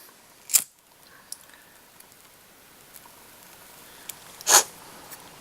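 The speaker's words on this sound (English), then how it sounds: "remove the fly from the tube fly holder, trim it off" Scissors snip fly-tying material off a red cone tube fly in two short, crisp cuts about four seconds apart, close by in a quiet room.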